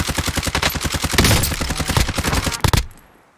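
Rapid volleys of video game gunfire crack loud and close in a dense, evenly spaced stream for nearly three seconds, then cut off into a quiet tail.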